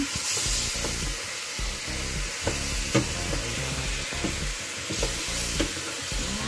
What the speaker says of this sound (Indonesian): Diaduk hingga merata.